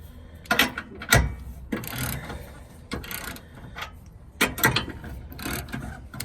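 A ratchet tightens the bolt nut on a 2-inch rear trailer hitch receiver being installed on a Dodge Ram, giving several close bursts of rapid clicking separated by short pauses, with no speech.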